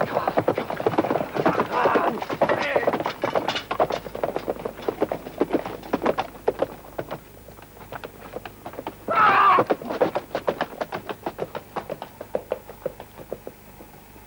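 Rapid hoofbeats of galloping horses thud in dense, irregular rhythm, with a whinny cutting through midway.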